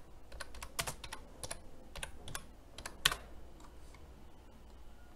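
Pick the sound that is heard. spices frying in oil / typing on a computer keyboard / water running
typing on a computer keyboard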